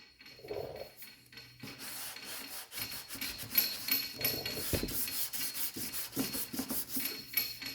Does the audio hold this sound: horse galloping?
no